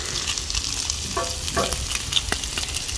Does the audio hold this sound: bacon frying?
yes